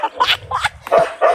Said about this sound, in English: All right, you big dog.